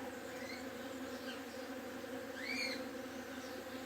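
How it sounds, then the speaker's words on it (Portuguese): Bees buzzing around flowering jabuticaba blossoms, a steady low insect hum close by with a brief louder pass from a nearby bee. "Quem gosta de abelha, esse apicultor que ama esse som, olha só."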